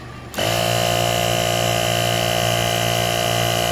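A portable A101 air compressor starts abruptly to inflate a Renault Megane tire and runs with a steady, loud mechanical hum and whine, continuous without pause.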